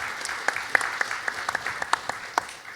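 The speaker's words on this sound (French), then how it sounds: "Oui, on peut l'applaudir" Audience applause at a special council meeting on flooding: a modest group clapping with sharp individual claps standing out, moderately near, tapering slightly at the end.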